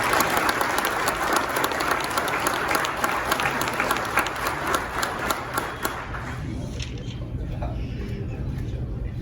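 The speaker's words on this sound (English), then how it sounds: "A round of applause for our correction professionals." A crowd applauds at a Kenosha County Sheriff's Department promotion and awards ceremony, with dense, loud clapping that thins out and fades after about six seconds.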